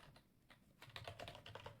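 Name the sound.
typing on a computer keyboard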